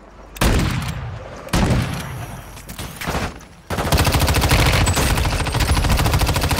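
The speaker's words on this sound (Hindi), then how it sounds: "ये वाली असोल्ट राइफल तो तगड़ी है भाई, 50 गोलियां आती है भाई पूरी में, पूरी उतार दो बंदे के अंदर" An assault rifle fires in Call of Duty Warzone Mobile, first in three short loud bursts with brief pauses, then in a long rapid sustained stream of shots, close and loud.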